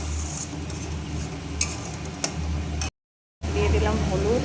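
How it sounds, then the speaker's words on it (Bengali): Masala being sautéed with ground prawn shells in a pan for a potol-prawn curry gives a steady close sizzle with stirring scrapes and a few sharp clicks; it drops out briefly, then returns louder. "এটা খুব ভালো করে এর সাথে মশলার সাথে কষিয়ে নেব।"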